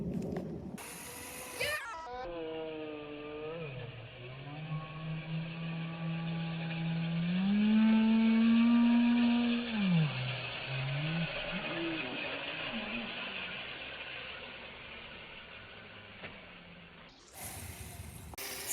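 A red gear dirt bike's engine idles steadily, then revs up to a higher, sustained whine and drops back down, with a rattly mechanical edge throughout.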